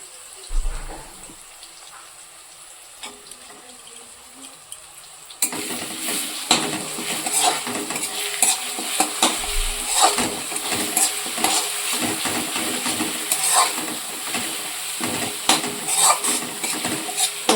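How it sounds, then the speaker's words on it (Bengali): Onion, garlic and ginger paste frying in a pan over medium flame, a steady close sizzle with scattered scraping stirs that grows louder and busier after a quieter start. "এটাকে ভাজতে থাকবো যতক্ষণ না কাঁচা গন্ধটা দূরে যায়।"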